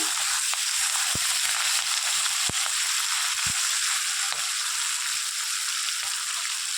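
Onions fry in a pan with a dense, continuous sizzle, while a utensil stirring through them adds scattered soft knocks and scrapes.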